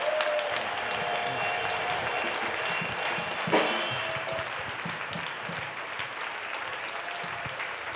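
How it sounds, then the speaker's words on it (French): A church congregation at a worship service claps in sustained applause for Jesus Christ, a steady wash of many hands clapping at moderate loudness, with one sharper burst midway and a murmur of voices underneath. "Let's clap for Jesus Christ."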